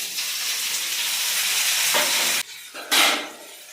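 Chopped tomatoes tipped into a hot pan for a dried-fish curry, setting off a steady loud sizzle and frying hiss that continues through stirring, with a brief break and a fresh burst of sizzling near the end.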